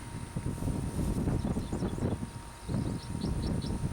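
Wind gusting outdoors at a model rocket launch, heard as a low, rumbling buffeting that rises and falls in waves across the whole stretch, fairly loud and close, with no voices.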